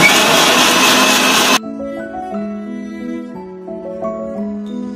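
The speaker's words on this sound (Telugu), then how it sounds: "ఈ విధంగా మిక్సీ పట్టుకొని" A mixer grinder blends milk with dates, nuts and seeds for a smoothie, giving a loud, dense whir for about a second and a half. It stops abruptly, leaving only soft background music.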